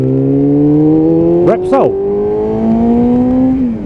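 A motorcycle engine revving through an aftermarket exhaust can, a steady droning idle with a sharp rising-and-falling rev blip midway, close and loud under a voice.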